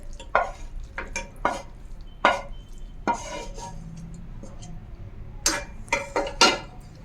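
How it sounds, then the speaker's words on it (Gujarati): Spice mix gets stirred into a soaked moong dal batter in a bowl, making a run of separate wet scraping strokes and soft utensil clinks, close and uneven in rhythm, with no voices. "તો આપણે બધો જ મસાલો એમાં મિક્સ કરી દઈએ."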